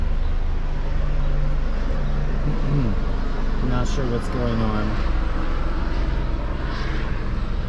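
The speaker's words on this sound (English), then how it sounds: "It's a big day for helicopters today, so I'm sorry about all the noise in the background." A steady low engine drone of helicopters passing overhead fills the background of a Philadelphia container garden while a person speaks briefly over it.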